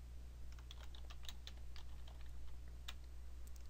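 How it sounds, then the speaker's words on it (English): Soft, quick keystrokes tap on a computer keyboard in short irregular runs, faint against a steady low hum while text is typed into Illustrator. "And then just type your text."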